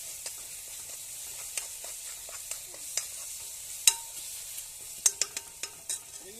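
Onions and tomatoes sautéing in a pan for chicken curry, a faint sizzle broken by repeated sharp spoon clicks and scrapes against the pan, coming in irregular bursts near the end.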